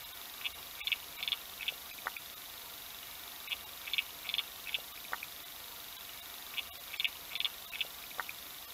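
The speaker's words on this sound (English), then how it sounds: "A particular species of water boatman, Micronecta, which is not this one here in the picture, it's a different one, but it's capable of producing an incredibly loud sound" Micronecta water boatmen rasp underwater in a bathtub, giving repeated bursts of short, high, buzzing chirps in loose clusters over a faint hiss, alone and fairly quiet.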